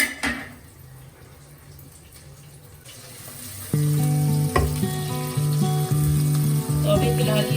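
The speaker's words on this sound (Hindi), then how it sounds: "ये मैं प्याज ब्राउन कर रही हूँ दाल बनाने के लिए" Onions browning in a pan for dal give a steady, close hiss of frying. Partway through, sustained tonal background music joins the sizzle.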